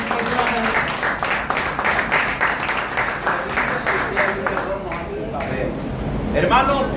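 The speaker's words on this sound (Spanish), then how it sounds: "Fuerte esas palmas, hermano." Church congregation applauding at a Spanish-language Sunday service, continuous dense clapping throughout, loud and close, with voices talking and calling out over it.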